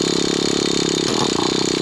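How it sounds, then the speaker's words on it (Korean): A VRX2 nitro RC buggy engine is started remotely without a recoil pull and runs loud and close, a buzzing, steady engine note with a brief rise in pitch partway through. "전원만 꽂으면 리코일 없이 바로 시동 걸 수 있는 그런 내용이 있습니다"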